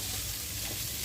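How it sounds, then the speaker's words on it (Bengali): Cauliflower frying in a pan, a steady close sizzle of hot oil running unbroken with no voices. "ফুলকপিটা ভাজতে দিয়ে দিয়েছি।"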